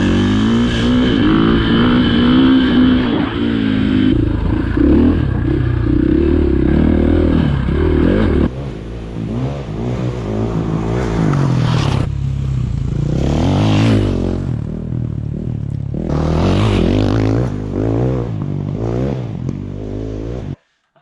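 A KTM 500 EXC dirt bike with FMF exhaust and performance upgrades revs hard and repeatedly, its loud engine climbing and dropping in sustained bursts with rattling clatter, close by and with no voices.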